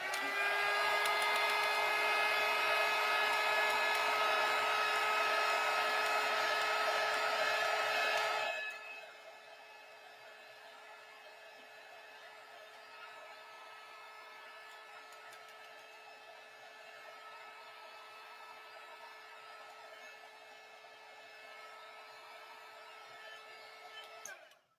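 A heat dryer blows loudly and steadily over chalk paint on a plaid vintage truck craft project, then drops abruptly to a quieter, continuous whirring hum that runs until it clicks off at the end.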